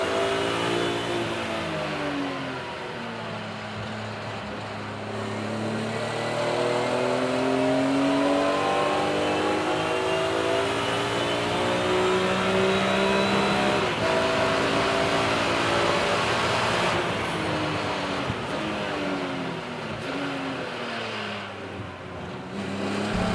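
BMW race cars at Donington Park circuit, engines revving and shifting through gears as several cars roar past, pitch sweeping up and down, loud and sustained over the whole stretch.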